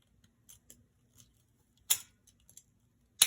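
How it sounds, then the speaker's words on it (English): Scissors snipping stems for a mini Christmas wreath, a few scattered quiet clicks followed by two sharper, louder cuts close by, with no talking. "so I'm going to cut them like here."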